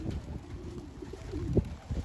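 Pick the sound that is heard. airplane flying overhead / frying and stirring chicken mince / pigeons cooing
pigeons cooing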